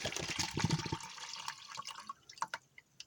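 Water pours into an MRE ration pouch as a close gurgling stream that tapers off into a few separate drips.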